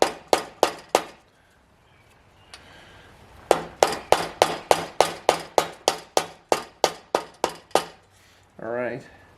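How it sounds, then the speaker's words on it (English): A valve seal is tapped into a 7.3 IDI diesel cylinder head with a socket: a close series of sharp metallic taps, a few quick hits, a pause, then about a dozen evenly spaced strikes, ending with a short voice. "Take a socket that fits on the outside and just go ahead and tap it in."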